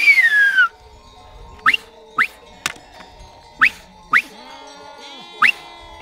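Sheep bleat from a flock on a seasonal migration route with shepherds, one long cry first and then five short separate bleats spaced about a second apart against a quiet background.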